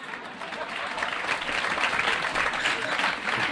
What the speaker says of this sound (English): A little applause in the background there